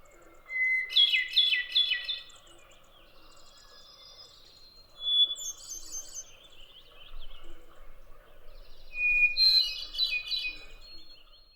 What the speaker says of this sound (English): The hermit thrush's clear, flute-like song consists of 3 or 4 phrases at different pitches